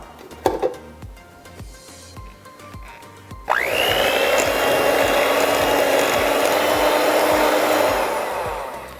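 An electric hand mixer whirs loudly and steadily while beating an egg into banana bread batter in a home kitchen, starting abruptly after a few quiet clinks and running continuously to the end.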